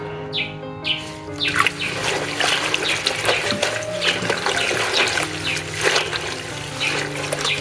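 Food being washed in water mixed with baking soda and vinegar gives a continuous soft trickling and sloshing, with birds chirping faintly in the background.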